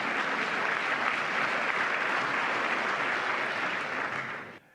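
Steady, dense audience applause fills a Trump speech venue, loud and continuous for over four seconds before tapering off abruptly at the end.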